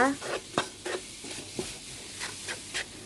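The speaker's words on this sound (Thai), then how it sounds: "ผัดผัดให้ทุกอย่างเข้ากันเลยนะคะ" Beans stir-fried in a pan with salt, sugar and pepper: a continuous sizzle under repeated quick scraping strokes of a spatula, close and moderately loud.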